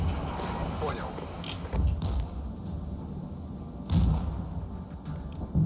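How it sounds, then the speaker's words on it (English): Artillery fires in the video game Regiments: heavy thuds and booms land at intervals over a constant low rumble, fairly close and punchy. "It's gonna develop into a little bit of an artillery battle here."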